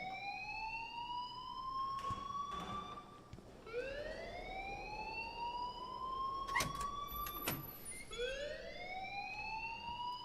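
A wailing electronic alarm rings in the video game Life Is Strange Remastered, repeated rising sweeps with bright overtones sounding steadily and loudly, with a few sharp clicks and thumps in between and no talk over it.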